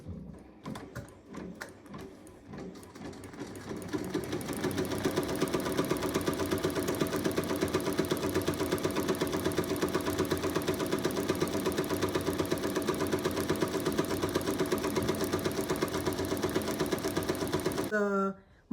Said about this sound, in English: I'm going to get this put back on the machine.